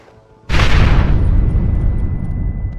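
Planted charges detonating at a gate in Red Dead Redemption 2 produce a sudden, loud boom that is followed by a long, rumbling roar of debris, which fades slowly with no voices over it.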